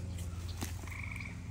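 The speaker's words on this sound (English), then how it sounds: "Great tree frogs." Tree frogs croaking near a wetland where turtles are being released, faint and distant, with a short trilling call over a steady low background hum.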